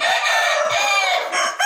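A KUB breed rooster, about ten months old, crows close and loud, one long, strained, harsh call that fills the whole moment before tapering off.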